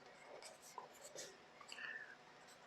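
Chalk or marker writing on a board during a data-structures lecture, faint scratchy strokes in short bursts, close but quiet, mixed with low murmured speech.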